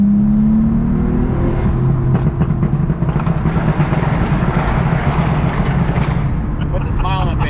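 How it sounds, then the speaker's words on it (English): A 2000 Audi B5 S4 engine revs loudly nearby during a tuning session, a steady roaring drone that rises in pitch, with people talking over it. "I've never ever heard my car from the outside"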